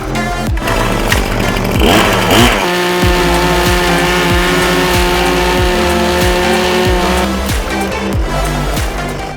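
A small hedge trimmer engine drones loudly and continuously at high revs while cutting large hedges, its pitch dipping and rising as the tool works, close by and steady throughout.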